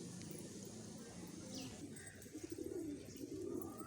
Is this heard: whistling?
no